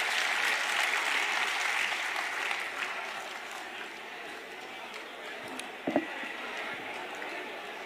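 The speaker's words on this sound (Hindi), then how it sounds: "तालियों से स्वागत करो उदय भान जी" A political rally crowd in Faridabad, Haryana applauds in welcome, a broad, fairly distant wash of clapping that gradually thins out, with a brief thump partway through.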